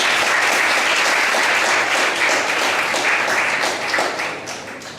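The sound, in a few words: applause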